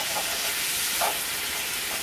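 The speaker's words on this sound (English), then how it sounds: "you just let that for a couple of minutes just fry in there because you don't want to burn your garlic" Garlic frying in a pan gives a dense, steady sizzle and hiss throughout, close and even, with a few slight bubbling swells.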